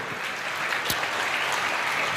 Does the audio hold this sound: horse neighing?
no